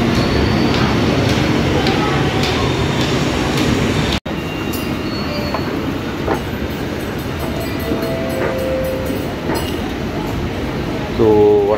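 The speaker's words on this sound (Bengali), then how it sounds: "এখানে মেট্রো দেখতে হবে কোন দিক দিয়ে আসবে" A Chennai metro train running at a station, a steady loud rumble of wheels and rail noise with a brief squeal near the end, heard alone without talk.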